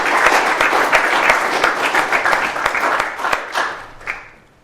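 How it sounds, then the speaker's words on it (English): At a design meetup, a room full of people gives a round of applause, brisk and fairly close, holding steady before thinning out and fading over the last second. "I think you deserve a round of applause"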